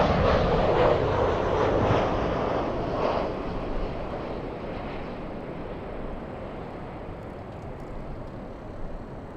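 A jet airplane departing LAX on a gusty, windy day roars loudly at first, then its broadband engine rumble fades steadily into distant wind noise.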